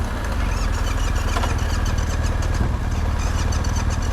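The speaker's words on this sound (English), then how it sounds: "backfired through the intake" A Yamaha MT-07 motorcycle engine runs close and loud at a rough idle with a steady low throb, while faint popping hints at the backfiring through the intake.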